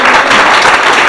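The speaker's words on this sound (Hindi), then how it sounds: "तालियों की गूंज रुकनी नहीं चाहिए," Sustained applause from students fills a school prize-giving ceremony, a dense, even wash of clapping hands that stays loud and steady from start to finish with no speech over it.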